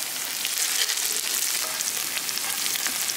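Onions sautéing with curry leaves, green chillies and a little salt in a hot pan, giving a loud, close, unbroken hiss of frying that holds steady throughout with no voices.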